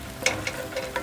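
Fried chicken wings stirred into a thick Kerala-style spicy masala paste in a pan give a steady sizzle broken by three quick scraping strokes.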